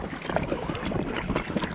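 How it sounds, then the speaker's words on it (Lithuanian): Waves on the Nemunas river splash and slap against the side of a rowing boat, a steady, close, broadband wash of water with wind buffeting the microphone and no voices. "Tai būna kartais bangos net iš šonus taškosi vanduo taip."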